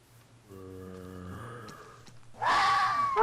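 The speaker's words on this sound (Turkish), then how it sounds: "Burada zombiler var Çok garip ses çıkarıyorlar onlar." A low, droning groan from a Minecraft zombie in the Hexxit modpack, followed by a harsher, rasping growl; both sound close and moderately loud, with no talk.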